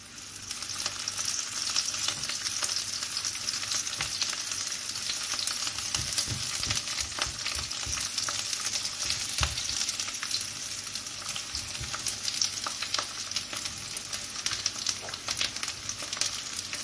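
Aubergines fry in olive oil in a pan for a halloumi burger, giving a steady, close sizzle throughout with occasional soft clicks and scrapes of stirring.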